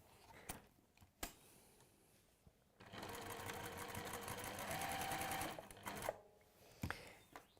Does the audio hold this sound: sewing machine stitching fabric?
yes